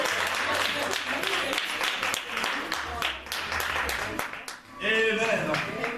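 A church congregation applauds for sisters during a Sunday worship service, steady crowd clapping filling the room with cheers and voices mixed in, swelling louder near the end.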